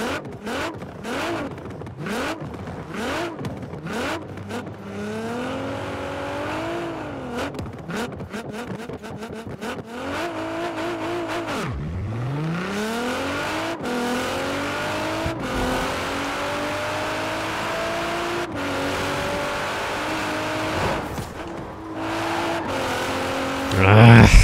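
Nissan GT-R R35 in Forza Horizon 4 driving hard, its engine revving up and down through repeated gear shifts with rising and falling whine, steady close-up roar throughout, while someone talks over it.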